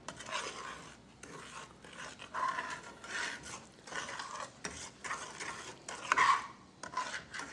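Stirring flour into a hot pan with a spoon, giving a close, steady scraping and rubbing in repeated strokes that start and stop, with no voices.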